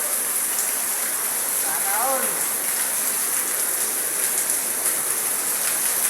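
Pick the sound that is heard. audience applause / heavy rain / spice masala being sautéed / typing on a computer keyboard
heavy rain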